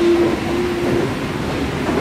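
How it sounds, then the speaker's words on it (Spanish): A Paris train rumbles steadily nearby with a sustained tonal whine over the low rolling noise, no talking. "No, mira cómo hace el tren."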